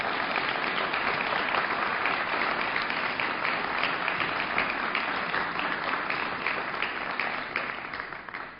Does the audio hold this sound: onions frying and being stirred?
no